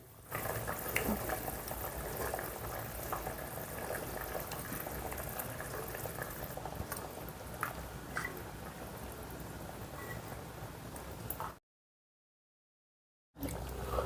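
A pot of korameenu fish curry (pulusu) boils on a stove with a steady, close bubbling hiss. The bubbling cuts out briefly near the end, then resumes.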